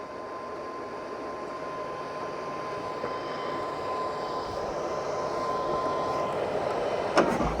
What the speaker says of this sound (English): Can you hear the ultra cool fan blowing right there?